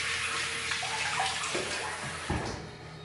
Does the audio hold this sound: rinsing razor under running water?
yes